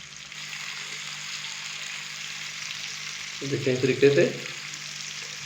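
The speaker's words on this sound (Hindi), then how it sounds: "दूसरी साइड को भी हम 2 से 3 मिनट के लिए फ्राई कर लेंगे।" Fish fillet frying in oil in a pan for a Punjabi fish curry, a steady soft sizzle throughout, with a brief louder burst of spattering as the fish is turned; someone speaks briefly over it.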